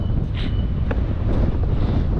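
Strong wind buffets the microphone nonstop, a dense low roar that swells and eases slightly, with no voices.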